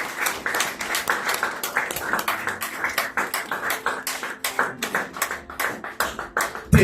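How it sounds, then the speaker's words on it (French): A church congregation applauds during a pastor's sermon on marriage, steady dense clapping from many hands in a reverberant hall, loud and sustained for several seconds with little talk. "Est-ce que nous ne pouvons pas applaudir le Seigneur?"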